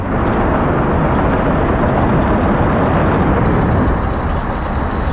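Trains in the city-building game Workers & Resources rumble in a dense, loud, continuous roar with steady rolling noise and a faint high whine coming in toward the end.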